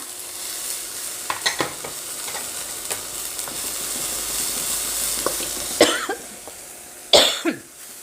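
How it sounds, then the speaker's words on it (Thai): Fingerroot and green peppercorns stir-fry in a hot pan for a salmon-skin holy basil dish, with a continuous crackling sizzle, scattered spatula scrapes and several loud coughs from the cook near the end. "ผัดให้หอมนะคะ"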